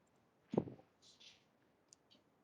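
A single computer mouse click sounds close and fairly loud during a PowerPoint slide tutorial, followed by a few fainter soft clicks in an otherwise quiet room.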